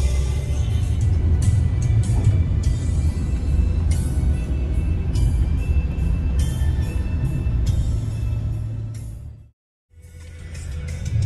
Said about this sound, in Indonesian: Kita langsung menuju ke arah Jakarta dengan bis Rosalia Indah Super Top